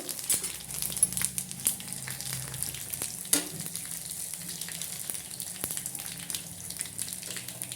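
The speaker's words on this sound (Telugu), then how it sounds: "చాలా వేడెక్కిపోయింది నూనె. తాలింపు సరుకులు వేసుకున్నాము." Tempering spices and garlic cloves frying in very hot oil for gongura curry, a continuous close crackling sizzle with scattered pops and one sharper spatter, no talking.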